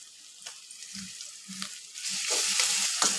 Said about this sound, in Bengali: তো এখন পেঁয়াজ আর রসুন মরিচ এগুলোকে একসাথে ভাজা হবে